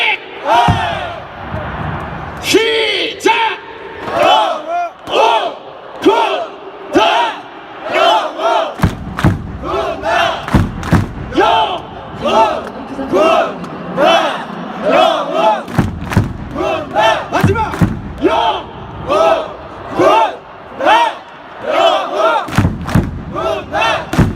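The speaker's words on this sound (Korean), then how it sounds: "영웅의 함성 준비! 하면 여러분들 어이! 크게 외쳐주시면 됩니다" A large baseball crowd at a Nexen Heroes game shouts a sharp 'eoi!' cheer chant again and again, loud rhythmic group shouts mixed with thumping drums and stadium noise that carry on throughout.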